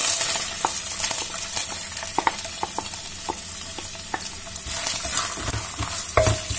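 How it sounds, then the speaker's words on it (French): Onions fry in a pan with a loud, continuous close sizzle, broken by scattered scraping stirs and knocks of the utensil. "On va mettre les oignons."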